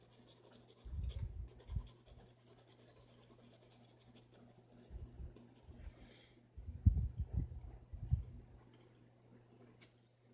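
Pencil shading feathers on a drawing of an owl-like creature, soft rasping strokes in short bursts separated by pauses, close and quiet, with a low steady hum underneath.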